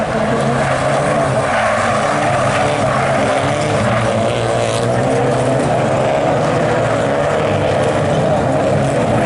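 Rallycross race cars at full throttle during a French championship final at Pont-de-Ruan in July 2022, their engines roaring loud and continuous for the whole stretch, with a faint commentary voice underneath.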